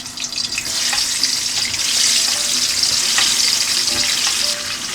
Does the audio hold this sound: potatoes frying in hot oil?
yes